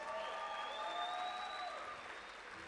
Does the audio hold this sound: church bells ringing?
no